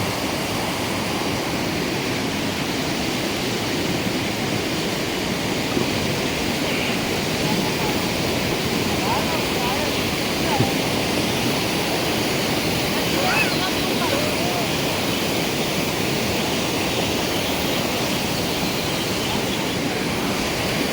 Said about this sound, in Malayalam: ഇതാണ് പുഴ, തെളിഞ്ഞ വെള്ളമാണ്.